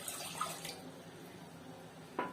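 Water being poured from a cup into a pan on the stove for tea, a faint soft trickle with a light splash or clink near the end, in a quiet kitchen.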